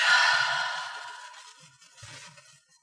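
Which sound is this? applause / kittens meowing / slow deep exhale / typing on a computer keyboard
slow deep exhale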